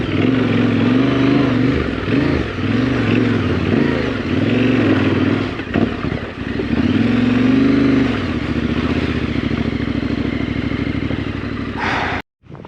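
A 2024 Yamaha Ténéré 700 adventure motorcycle riding on dirt trails, loud steady engine drone with repeated throttle blips and rises, rough clattering over terrain, then cutting off abruptly near the end.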